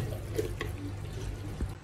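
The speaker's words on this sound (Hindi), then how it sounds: "मैं थोड़ा सा पानी ऐड करूँगी क्योंकि इसके अंदर ग्रेवी मुझे बिल्कुल भी नज़र नहीं आ रही है" Water poured into a pot of mutton kunna gravy, a soft steady splashing and trickling with a few brief drips, close by with no talk.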